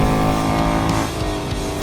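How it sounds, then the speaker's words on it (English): A Ford Mustang Dark Horse V8, a heavy front-engined muscle car, lets out a deep, throaty exhaust roar that stays loud and steady throughout. "The exhaust note is nothing short of music, a deep, throaty roar that echoes your every move."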